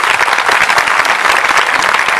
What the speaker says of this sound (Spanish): le voy a pedir a Pablo Sigismondi, para quien pido también un aplauso